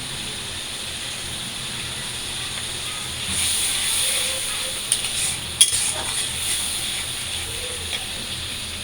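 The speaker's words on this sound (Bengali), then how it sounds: "এখন এই যে পেঁয়াজের মধ্যে হলুদ দিয়ে দিচ্ছি, কাঁচামরিচ দিয়ে দিচ্ছি।" Onions frying in a pan with turmeric, green chili and ginger paste added, a steady hiss swelling midway with a few clinks of a utensil against the pan, no talk.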